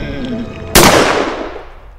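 A single sharp gunshot rings out in the pixel-art horror game Dias Felices, loud and sudden after a brief low hum, then decays slowly through a long echoing tail.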